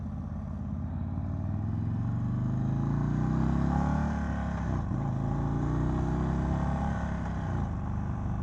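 A 2022 Indian Chief motorcycle with its Thunderstroke engine revs up loudly and steadily, a deep, throaty rumble whose pitch rises and falls through several swells with no talk over it.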